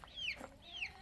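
A rooster in a 12 by 12 chicken coop gives two soft clucks close by at ground level, low in volume and quick.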